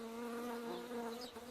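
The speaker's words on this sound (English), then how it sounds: "Oh, it's a bee." A bee buzzes steadily and close, a smooth droning hum with slight wavering pitch throughout, alone without voices.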